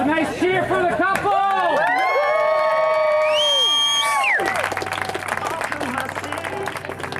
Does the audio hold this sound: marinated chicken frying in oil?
no